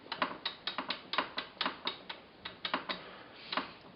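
Differential gears of an MGB tube axle click and clack as the axle is turned while the sun wheel is held, a run of about twenty light, close metallic taps in an uneven rhythm from gear play, with no talking.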